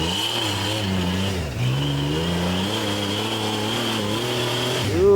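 A 4x4 trial truck's engine revs hard and steadily while climbing a trial hazard at a New Zealand 4x4 trials round, with a sustained mid-pitched drone and a dip around the midpoint. It rises again toward the end.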